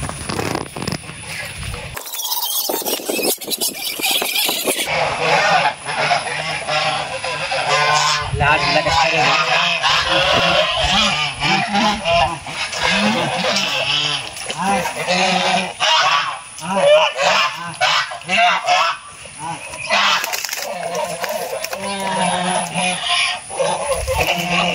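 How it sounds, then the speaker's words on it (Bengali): A flock of domestic ducks honks and quacks repeatedly in a loud, close chorus as the birds move off across a farmyard, with a few brief bursts of noise and no clear speech. "হাঁসগুলো যাওয়ার জন্যে ওদিকে যাচ্ছে। এখন হাঁস ওদিকে যাবে।"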